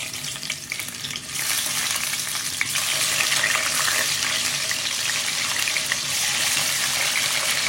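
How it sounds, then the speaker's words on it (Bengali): Fish hits hot oil in a pan and breaks into a loud, steady sizzle that jumps in intensity and then holds a dense, bright crackle throughout. "এখন আমি মাছগুলোকে তেলে দিয়ে দিব।"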